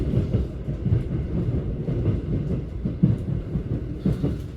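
JR Tokaido Main Line local train running at reduced speed in strong wind, heard from inside the car as a steady low rumble with rhythmic wheel clatter over rail joints.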